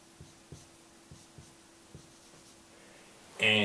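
A pen or pencil writing by hand on paper during a math lesson on scale drawings: several faint, short scratching strokes in a quiet room, ending in a brief louder rustle.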